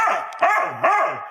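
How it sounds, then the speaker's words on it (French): A dog barks insistently outdoors, three loud, drawn-out barks in quick succession with a whining, yelping edge, close and with no voices. "leur chien se met à aboyer à l'extérieur avec insistance"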